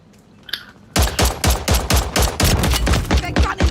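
Gunfire in the video game Call of Duty: Warzone rattles off as loud, rapid bursts of repeated shots after a quiet start, with no voices over it.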